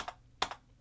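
Typing on a computer keyboard: a few quick, faint key clicks in a quiet room, two separate taps spaced apart with no speech.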